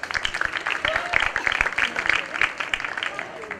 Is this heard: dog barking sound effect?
no